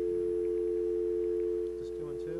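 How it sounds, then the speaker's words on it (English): A telephone dial tone from a handset, a steady continuous hum heard alone and fairly loud before brief talk overlaps near the end. "Dial tone."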